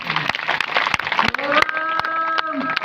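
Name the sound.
audience clapping for the performers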